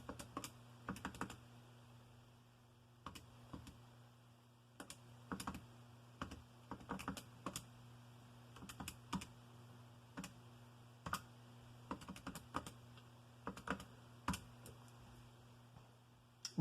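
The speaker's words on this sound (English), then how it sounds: "We type all this in." Bursts of rapid keystrokes on a computer keyboard entering numbers for a gravitation physics calculation, close and crisp, coming in irregular clusters with short pauses over a steady low hum.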